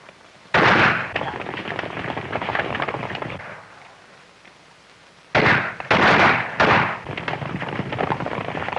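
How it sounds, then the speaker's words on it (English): Gunfire from a 1935 Western shootout comes as two loud stretches of rapid, crackling shots with a quieter rumbling lull between them, harsh and close, with no speech. "Keep up your firing."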